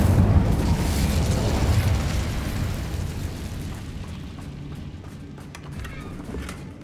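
The Incendio fire spell in Hogwarts Legacy bursts into a loud roaring whoosh of flame that gradually fades to a softer crackle over several seconds.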